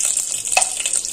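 Whole spices, kalonji seeds, bay leaves, black cardamom, cloves and cinnamon, frying in hot oil, giving a steady close sizzle with a brief clink of stirring partway through.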